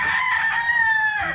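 A broodcock rooster on a Filipino poultry farm lets out one long, loud cock-a-doodle-doo crow close by, its ringing call holding steady before dropping off at the end.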